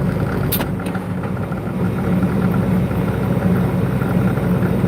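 A dump truck's engine runs steadily as it drives, giving a constant, fairly loud rumble with road noise and a brief higher rattle early on.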